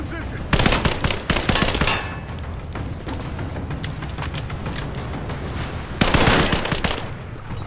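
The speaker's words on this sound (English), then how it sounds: "I'm under fire!" Bursts of rapid video-game gunfire from Rise of the Tomb Raider crackle in dense volleys, easing into a lighter patter before a second heavy burst near the end.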